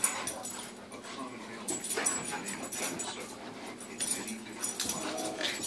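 Dogs play together, whimpering, panting and yipping in quick, uneven bursts close by, with a few quiet voices at the edges.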